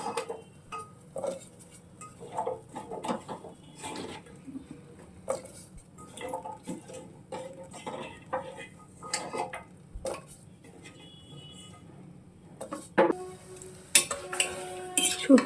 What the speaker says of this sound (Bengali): জলটা একটু ফুটে এসছে আমি এখন এর মধ্যে সমস্ত সবজিগুলো দিয়ে দেবো